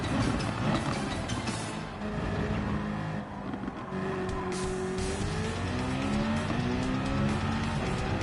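A Toyota GT3 race car pulling into the pits at Monza in Gran Turismo 7, engine droning and shifting pitch with tire squeal over a constant roar of passing race traffic.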